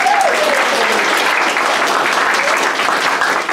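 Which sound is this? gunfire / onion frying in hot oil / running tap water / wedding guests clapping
wedding guests clapping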